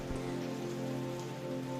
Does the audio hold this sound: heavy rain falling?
yes